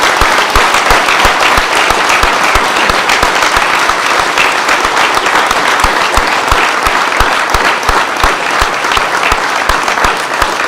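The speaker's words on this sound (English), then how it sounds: "Let's have one more round of applause for Bravo Battery 1st Battalion 188th ADA." Sustained applause from an audience at a military send-off ceremony for an Army air defense artillery battery, dense steady clapping at even loudness filling the whole stretch with no talk over it.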